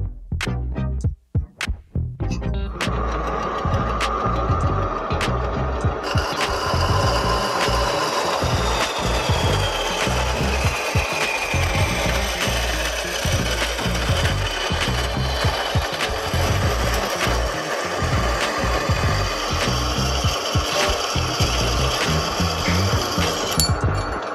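Metal pieces for a car supercharger build are cut with a power tool, opening with a few sharp knocks and then a long, loud, continuous grinding-saw whine at close range.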